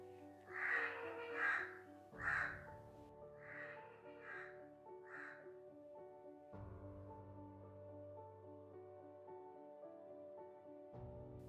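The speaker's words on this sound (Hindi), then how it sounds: "सुबह सुबह के टाइम ही कौवे आ चुके हैं" Crows caw in the morning around an Indian village, with several harsh, fairly close calls in the first half over a steady musical drone that continues after they stop.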